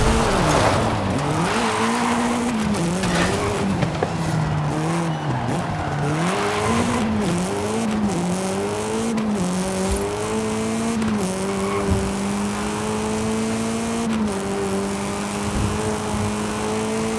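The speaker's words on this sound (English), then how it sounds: "Incredible drift by Toro Loco!" A car drifts in the Forza Horizon 5 racing game, its engine wailing and revving up and down while the tires squeal steadily and loudly through a long, continuous slide.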